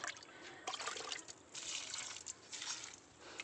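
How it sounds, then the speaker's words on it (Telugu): Liquid fertilizer poured from a container onto a butterfly pea plant in a garden tub, a steady close trickle and splash of water with a few brief surges, no voices. "ఇది శంఖం పువ్వులు మొక్క అండి దీనికి పోస్తున్నాను చూడండి"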